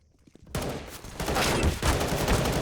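Gunfire in a Counter-Strike match on the Ancient map, a dense loud burst of shots starting abruptly after a quiet moment and continuing steadily to the end.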